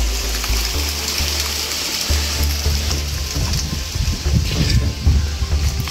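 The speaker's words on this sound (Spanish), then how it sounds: "No, no es la cascada todavía. Es solo un arroyo." A small mountain stream on the Río Mojanda flows steadily in a continuous, fairly loud rush, with low wind rumble buffeting the microphone throughout.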